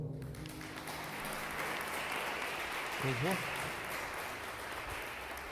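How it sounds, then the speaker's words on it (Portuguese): A church congregation claps through a Portuguese-language online Holy Communion service, a moderate wash of applause that carries on steadily in the room, with a brief vocal tone sounding midway. "Pode aplaudir o Senhor."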